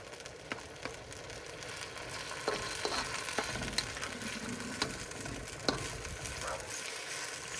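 Shrimp stir-fry cooks in a pan over medium heat, giving a quiet, continuous sizzle dotted with small pops and crackles, heard alone without talk.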